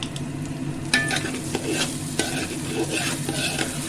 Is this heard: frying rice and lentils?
yes